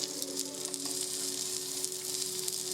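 Charred vegetables sizzle steadily on a hot tawa, a continuous close, bright frying hiss with faint crackles throughout.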